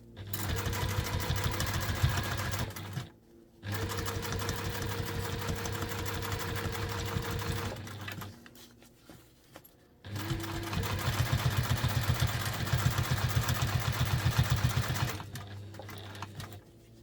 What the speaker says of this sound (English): we're just going to top stitch around the edge here to close the turning hole